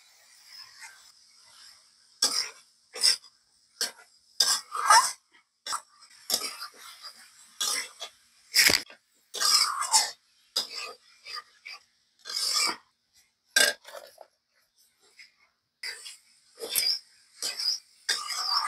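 Young jackfruit stir-fried in a cooked spice paste with potatoes, heard as a series of sharp, close scraping and rasping strokes of a spatula against the pan, separated by short quiet gaps, with no talking.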